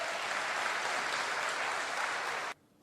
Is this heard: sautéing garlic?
no